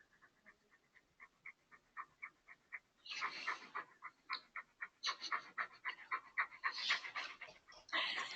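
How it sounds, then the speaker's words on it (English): A dog pants close by in quick, rhythmic breaths, softly at first, then faster and heavier. "You can hear the dog panting."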